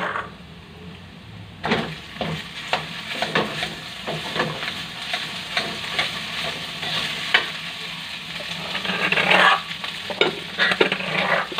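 Rice stir-fries in a hot pan for spicy fried rice, with a continuous sizzle broken by repeated rhythmic scraping strokes of a spatula, close and fairly loud.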